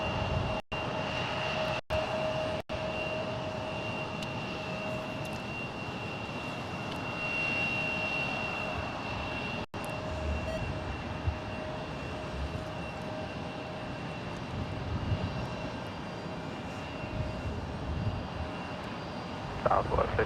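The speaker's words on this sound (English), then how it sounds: "we'll zoom in as this 777-300ER departs back to Boston" A Boeing 777-200ER jet departs San Jose airport, a steady broad engine roar holding for about twenty seconds, with faint voices underneath.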